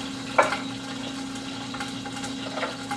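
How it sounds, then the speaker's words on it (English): Carrots sauté in butter with a soft, steady sizzle and a few light crackles and spatters, one sharper pop early on, moderately close with no talk. "So we're going to saute the carrots, and just to have that buttery flavor"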